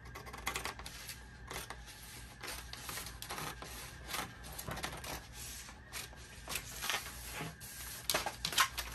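Scissors cutting fabric for a romper along a drawn pattern line, making a steady run of close, crisp rasping snips with small irregular clicks and no talking.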